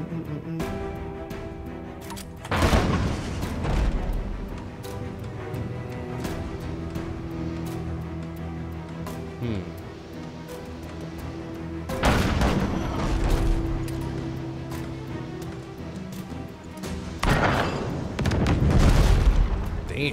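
Booming cannon blasts from ships in the naval game Abandon Ship, three heavy volleys spaced several seconds apart, each a loud low rumbling burst over quieter game ambience and music.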